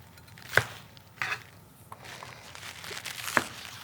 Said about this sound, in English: For the scallions, I'm going to chop off the end bits here.